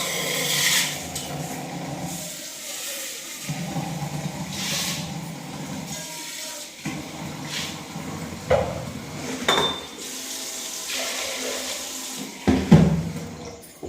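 Green gram is washed under running water in a home kitchen, with a tap running and grains sloshing and rattling in a vessel, plus intermittent clinks and splashes, close and moderately loud with no talking.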